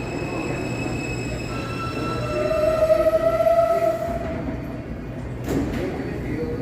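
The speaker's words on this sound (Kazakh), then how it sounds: "Кони Айленд деген осы пойызға мінеміз 42-ші көшеден." A New York subway train leaving 42nd Street on the Coney Island line, with a loud rumbling ride, rising wheel squeal with a sustained tonal whine in the middle, and a clunk near the end.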